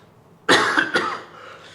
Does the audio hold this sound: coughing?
yes